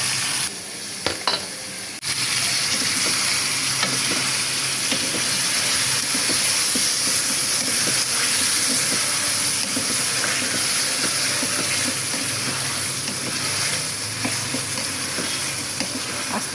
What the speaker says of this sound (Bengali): মশলা কষানো শেষ, এখন মাংস দিয়ে দিচ্ছি।